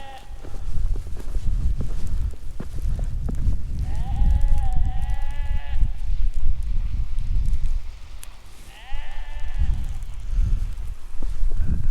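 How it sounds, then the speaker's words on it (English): Black sheep bleating outdoors in the Faroe Islands, two or three wavering bleats close by over blustery wind noise. "And do you hear, my friends, the black sheep?"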